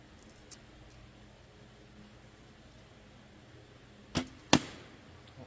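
A traditional bow shoots an arrow of about 585 grains at a deer target with a balloon, producing a crisp release twang followed a moment later by a loud smack on the target, against a quiet outdoor background.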